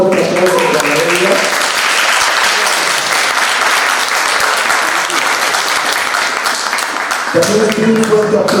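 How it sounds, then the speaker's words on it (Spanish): Conference audience applause, loud and sustained, with a voice speaking over the opening and the close of the clapping. "un fuerte aplauso para ella"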